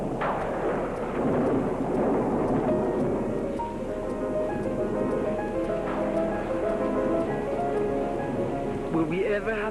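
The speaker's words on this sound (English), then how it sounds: "Will we ever have an opening without rain?" A thunderstorm with rain rumbles low and broad beneath music and voices, and the rolling thunder swells and fades throughout.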